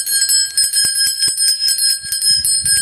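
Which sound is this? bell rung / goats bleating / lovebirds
bell rung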